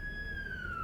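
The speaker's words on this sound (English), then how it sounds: "Cue siren." Brief siren sound effect, a single steady high electronic tone gliding slowly downward, faint and alone with no speech.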